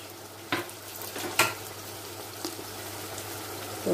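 Food sizzling and frying in a pan as spices go in for a Congolese meal, a steady soft crackle with a few sharper stir clatters, no talking.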